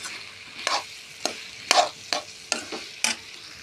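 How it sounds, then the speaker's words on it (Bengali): Fried jackfruit pieces being stirred gently in a pan, about seven distinct scraping strokes of a spoon at an even rhythm, each a short rasping scrape over a quiet low sizzle. "এখন দিয়ে দেব কাঁঠাল, ভেজে রেখেছিলাম, দিয়ে দিলাম। হালকা হালকা নাড়তে থাকবো।"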